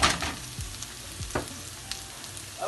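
Green chillies and onions frying in a pan, a faint sizzle with a few scattered stirring knocks and scrapes, and no talking.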